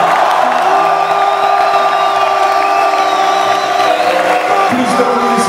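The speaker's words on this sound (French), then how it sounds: "S'il vous plaît, j'aimerais qu'on applaudisse." Crowd at a live rap concert at the Olympia cheering, whooping and clapping in a loud, steady wash of noise throughout, with music tones ringing underneath.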